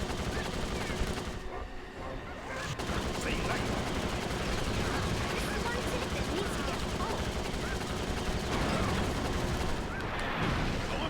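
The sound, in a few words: shooting at a rival racer in Crash Tag Team Racing video game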